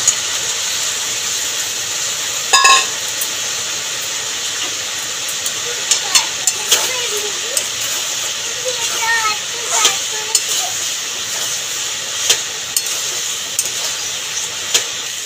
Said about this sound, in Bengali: মশলা দিয়ে সয়াবিন আলুটাকে ভালো করে কষিয়ে নিয়েছি।